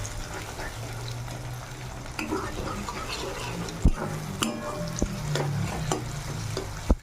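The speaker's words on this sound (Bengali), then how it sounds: "এই দেখো ডিমটা সুন্দরভাবে ফ্রাই হয়ে গেছে" Two eggs fry in a pan for tadka dal, giving a steady close sizzle with occasional sharp taps and scrapes of a spoon against the pan.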